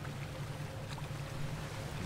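A boat engine in The Witness drones steadily with a low hum under a wash of water and wind noise, continuous and fairly quiet with no speech.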